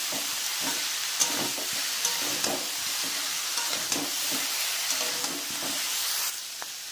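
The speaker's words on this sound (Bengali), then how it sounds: "ভালো করে কষিয়ে নেব।" Fried cauliflower and vegetables are sautéed with ginger paste in a pan: a steady close sizzle broken by repeated scraping stirs of a spoon. No one speaks.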